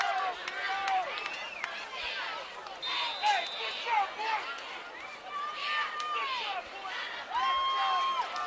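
Noisy high school football crowd of the Fighting Indians at a Vero Beach regional semifinal, a sustained babble of shouts and cheers with whistles and calls rising above it, heard from a distance under a commentator's voice.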